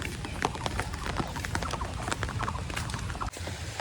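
Heavy rain falling over flooded jute fields, a dense continuous patter of drops with sharper splashes scattered through, loud and close, with no clear talk.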